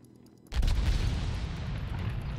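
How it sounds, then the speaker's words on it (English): A cannon fires in the Battlefield 1 video game: one sudden loud boom after a quiet lead-in, followed by a long roaring rumble and debris wash that stays loud to the end. "Guess I'll take the cannon for now."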